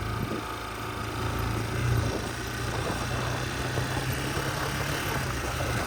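A motorcycle engine drones steadily as it rides along field tracks, with a brief swell of throttle partway through and no talk over it.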